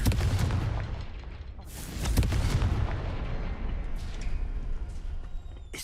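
A Confringo spell blast from Hogwarts Legacy erupts in a loud booming explosion, followed by a second heavy burst and a rumbling decay, with no voices.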